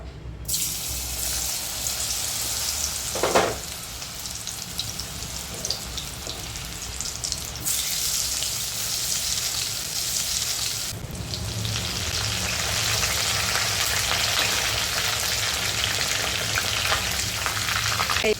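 Batter-coated cauliflower pieces fry in hot oil for Cauliflower 65, a steady close crackling sizzle throughout with a few brief clatters.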